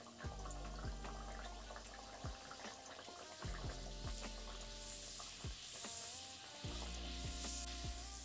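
Luchi, puffed Bengali fried bread, deep frying in hot oil, giving a steady close sizzle with repeated soft splashes and bubbling bursts as the dough is turned and pressed, no talking.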